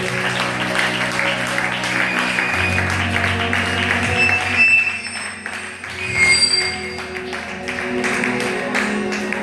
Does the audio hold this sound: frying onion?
no